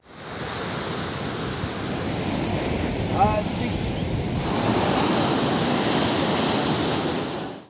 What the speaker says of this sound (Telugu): విశాఖలోని మధురవాడలో ఈదురుగాలులతో కూడిన వర్షం పడుతోంది